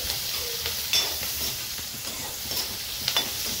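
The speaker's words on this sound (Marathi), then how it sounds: "तुम्ही बघू शकता मिरच्या आहे ना मस्त परतून घेते।" Green chilies sautéing in a pan for a fenugreek-leaf vegetable dish, giving a steady close sizzle with a few soft stirring scrapes and taps, no talking.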